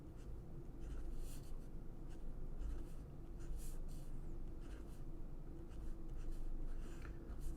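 Faint, steady scratching of a pen or marker writing out a matrix equation, continuous short strokes with brief pauses, heard alone and quiet.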